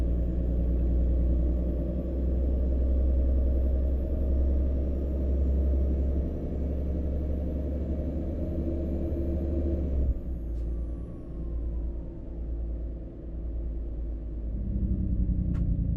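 A Volvo VNL300 truck engine runs at full throttle in American Truck Simulator, a heavy steady rumble with a high whine that cuts off abruptly partway, leaving a lower idling drone and a brief hiss.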